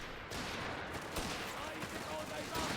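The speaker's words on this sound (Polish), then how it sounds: "No strzały, strzały lecą" Rapid gunfire in Company of Heroes 3, a 4v4 battle with Stuart tanks against German forces, crackles steadily through a dense, noisy mix, with bursts overlapping one another throughout.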